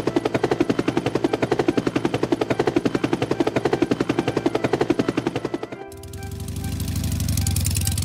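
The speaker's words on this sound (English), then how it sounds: "police helicopter" A police helicopter's rapid rotor chop thumps loudly and steadily, then cuts to a deeper, rumbling engine drone toward the end.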